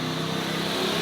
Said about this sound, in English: now we're just sanding it because we haul out